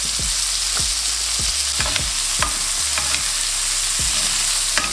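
Meat sizzles steadily and loudly in a pan with butter, garlic and thyme, a dense hiss broken by regular soft knocks and scrapes from stirring or basting, with no talking.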